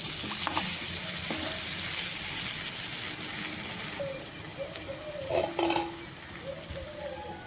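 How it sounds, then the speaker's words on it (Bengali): Vegetables tossed with spices in a hot pan while preparing a dried-fish (shutki) dish, giving a steady loud sizzle with scraping stirs and a few clinks of a spatula against the pan. "সবজিগুলো সব একসঙ্গে খুব ভালোভাবে নেড়ে চেড়ে মিশিয়ে নিতে হবে"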